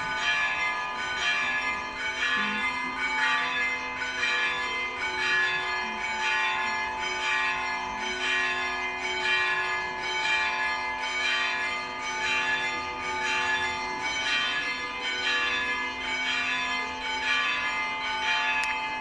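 Church bells ring continuously in a dense, overlapping peal with rhythmic strikes, loud and steady throughout, with no talking.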